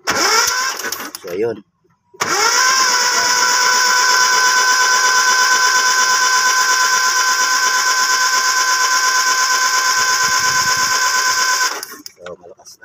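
After a contact point adjustment, a small engine sputters, pauses briefly, then catches and runs at a steady, loud, buzzing drone for about ten seconds before cutting off, with a voice speaking briefly.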